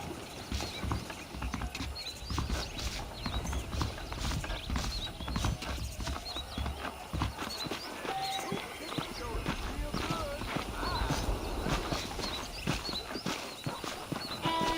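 Horse hooves clip-clop in a steady, close rhythm from a ride in the Red Dead Redemption video game, with tack and wagon creaks and occasional birdsong beneath. The hoofbeats carry on throughout, with brief talk in between.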